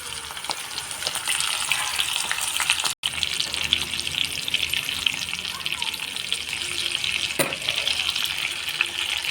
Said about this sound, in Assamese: অলপ কম জুইত ভাজিব লাগিব এইখিনি।